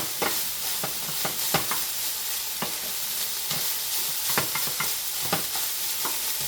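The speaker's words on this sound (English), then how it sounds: "I like to heat mine up in the frying pan because it gives you a little crisp on some of the macaroni noodles" Steady crackling sizzle of macaroni frying in a frying pan, with scattered sharper pops and scraping stirs throughout.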